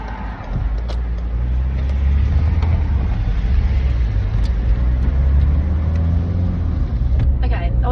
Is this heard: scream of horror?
no